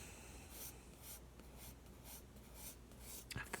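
Pencil shading on paper while drawing an apple, a close, soft scratchy rasp in repeated rhythmic strokes, with a louder tap near the end.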